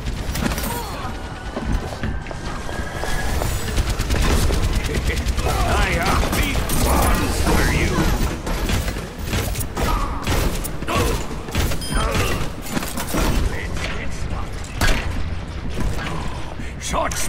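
Mechanical clanks and ratcheting clicks from Torbjörn's turret in an Overwatch match, part of a loud, busy stretch of gunfire and game effects that runs steadily throughout.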